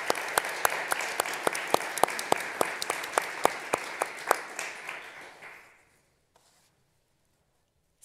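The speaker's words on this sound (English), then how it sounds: "I think we should give them a warm applause" Warm audience applause at a press freedom panel, steady clapping with sharp individual claps standing out, dying away after about six seconds into near silence.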